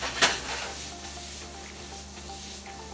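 Shrimp sizzling in a hot pan for a brandied cream sauce, a steady hissing fry with a couple of sharp clinks of a utensil against the pan.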